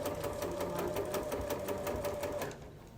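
A sewing machine stitches fabric for a fluted bowl, running at a steady rapid pulse close up with a faint back-and-forth for a back stitch, then stopping abruptly near the end.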